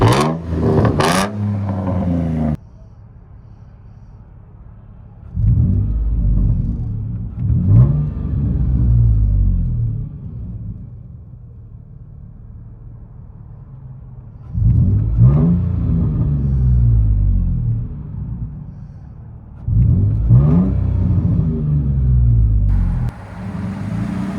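A 2005 Nissan Frontier pickup's 4.0L V6 engine with straight-piped dual exhausts revs hard several times, a raw, loud rasp rising and falling between stretches of low idle rumble, with no voices.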